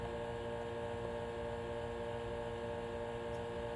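An espresso machine pulls a shot with a steady, faint pump hum and buzzing tones, continuous and unchanging, with no talking.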